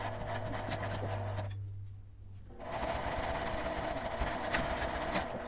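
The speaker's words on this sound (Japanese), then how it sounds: "1センチの縫い代で縫います" A sewing machine stitches laminate fabric for a small wallet, its steady rapid whir running close, stopping for about a second, then resuming.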